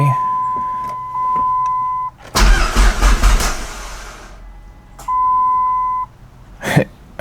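A car engine cranks in a short churning burst after a Walbro 255 fuel pump install on an SRT-4, framed by steady electronic chimes from the car before and after, with a brief voice and cough near the end.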